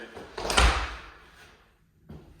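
A big door swings open with a loud, hollow thud and a drawn-out scraping rumble that fades away, then a short knock follows about two seconds later.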